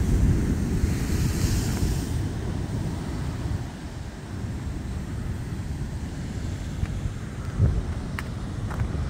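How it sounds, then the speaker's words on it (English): Ocean waves washing onto Playa La Pocita de la Princesa beach in Isabela, Puerto Rico, a continuous rumbling surf with wind buffeting the microphone, steady and fairly close without speech. "this is wet, so probably waves might come"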